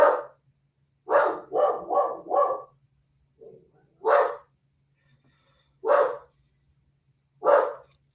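A dog barks loudly and close by: a quick burst of four barks, then single barks spaced a couple of seconds apart, with quiet between.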